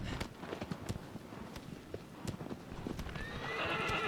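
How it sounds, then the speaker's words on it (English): A horse's hooves clop at a walking pace across the ground in Shadow of the Colossus, with a neigh partway through, fairly soft and steady, and wind swelling toward the end. "Aggro is the name of our horse."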